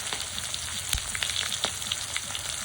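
Pangas fish frying in a small amount of oil for a Bengali potato curry, a dense, steady sizzle with scattered sharp pops and crackles running throughout, close and fairly loud, no talking.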